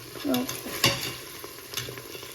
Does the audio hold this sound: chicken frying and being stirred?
yes